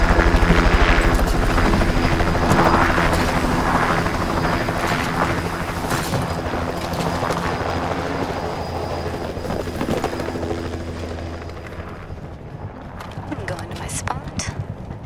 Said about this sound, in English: Let's vote for a helicopter drop.